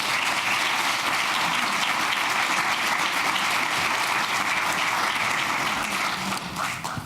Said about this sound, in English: So please welcome and cheer on the cheerleader, Dr. Glenn Feltham.